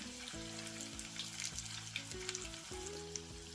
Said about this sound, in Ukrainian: Котлети тільки починають смажитися, а вже апетитно пахнуть.